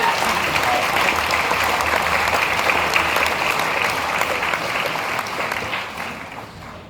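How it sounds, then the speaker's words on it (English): Sustained applause from a crowd of pharmacy graduates at their ceremony, a loud, even roar of many hands clapping for several seconds without speech, gradually thinning toward the end. "So give yourselves a round of applause."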